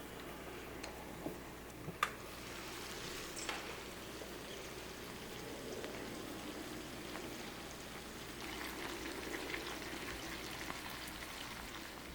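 Soft, steady crackling and faint ticking of a potato nest pancake with egg and cheddar cheese frying under a lid in a covered pan, quiet and even throughout, with a few sharper pops and no voices.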